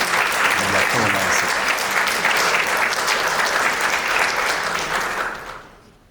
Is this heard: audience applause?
yes